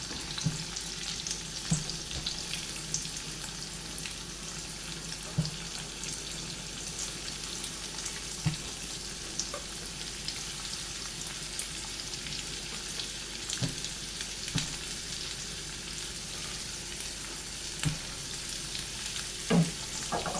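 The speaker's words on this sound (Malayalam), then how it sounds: "ഇതെല്ലാം നല്ലതുപോലെ നമുക്ക് വഴറ്റി എടുത്തുകൊണ്ട് വരാം." Sliced onions sauté in a pan, giving a steady, moderate frying crackle across a long stretch, with occasional soft knocks and scrapes of a spatula, and no one speaking.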